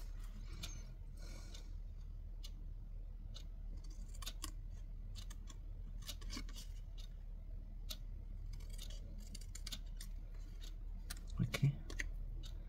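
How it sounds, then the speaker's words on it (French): Scissors snip through paper for a photo album page, a series of quiet, close, crisp cuts with small mechanical clicks, spaced irregularly over a low steady hum. "Et le reste, on le coupe au ciseau."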